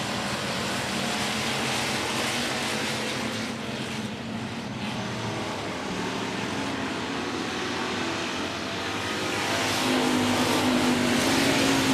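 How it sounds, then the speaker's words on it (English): A race car accelerates on a speedway oval, a continuous loud engine roar that builds toward the end, heard from the track. "As the 116 of Bryant hit the gas, he turned on the smoke machine."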